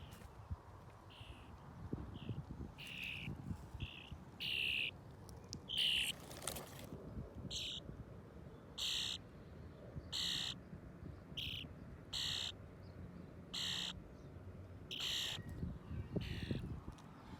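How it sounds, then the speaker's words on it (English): Repeated short, high-pitched calls from starling chicks in a nest in a tree sound in regular bursts over low outdoor background noise, faint and somewhat distant, with no talking. "the nest is in here, and you might be able to hear the birds crying."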